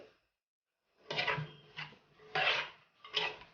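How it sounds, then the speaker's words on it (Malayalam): A spoon scrapes and knocks inside a pot of kalan curry seasoned with turmeric and salt, in four short scraping strokes separated by pauses, close and fairly quiet, with no voices. "ഇപ്പോൾ ഇനി ഇത് നന്നായിട്ട് ഇളക്കിയിട്ട്"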